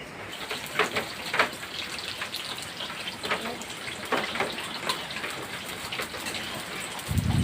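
Steady rain pattering on surfaces during Cyclone Remal, a continuous close hiss with scattered drops and a low rumble rising at the end, no talk.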